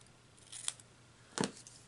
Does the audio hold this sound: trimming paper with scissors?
yes